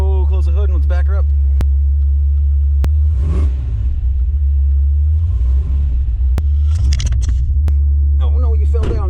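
A V8-swapped 1986 GMC S15 Jimmy idles steadily after a cold start, its deep, loud rumble continuous throughout while people talk over it.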